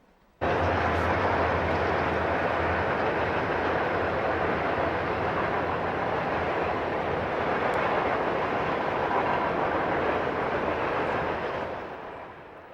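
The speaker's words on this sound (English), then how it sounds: "A westbound Norfolk Southern train is next." A long, steady rumbling roar of a westbound Norfolk Southern freight train rolling past at close range at Oak Harbor, Ohio, holding constant for several seconds before fading slightly at the end.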